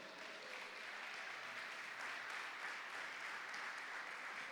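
A church congregation at a Spanish-language women's service claps steadily in praise, a soft, even wash of many hands heard from a distance throughout.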